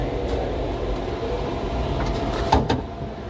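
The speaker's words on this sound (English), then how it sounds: "Doors will be closing again, doors are closing." Sliding doors of a small tram car inside the Gateway Arch close with a brief clunk and rattle over steady low cabin rumble and ambient hum, with no talk.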